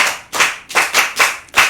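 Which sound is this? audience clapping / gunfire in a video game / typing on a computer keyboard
audience clapping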